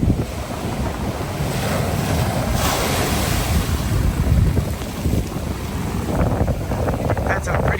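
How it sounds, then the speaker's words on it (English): Ocean waves break on the shore at a flooded beach in the Wildwoods, a loud, continuous surf roar heavily mixed with wind buffeting the microphone, with no pause in the wash. "watching the waves break."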